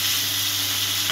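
Tomato cooking in a pan with Kashmiri chilli, green chilli and meat masala, a steady close sizzle with light stirring throughout, no voices.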